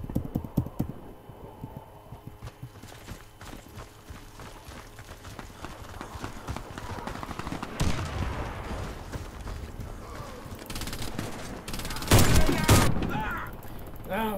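Gunfire in the video game Warface, with several sharp shots and a dense burst near the end over a busy mix of game sounds.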